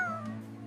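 A cat, recovering after a rescue, gives a single short meow, close and fairly faint, trailing off within a second.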